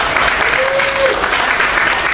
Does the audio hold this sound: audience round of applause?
yes